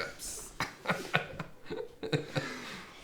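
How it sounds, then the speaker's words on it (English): Several hiccups in quick succession from a man in a casual tech-talk show, with soft laughter and chuckling mixed between the sharp little catches. "Hiccups."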